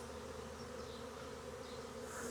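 A wild honeybee swarm fills the air around a box near a barn, a steady, dense drone of many wings buzzing continuously at moderate level, with no voices.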